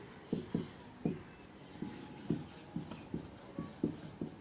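Pen or chalk writing during a chemistry lesson on enzymes, heard as a series of short scratchy strokes in an irregular rhythm, close and fairly quiet with no talk.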